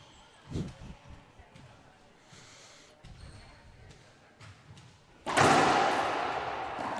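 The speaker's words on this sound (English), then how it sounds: "Both players pounding drives left side." Racquetball players pounding hard drives in a world championship final, sharp ball smacks and wall thuds echoing in a court, followed by loud crowd cheering and applause, with commentary over the play.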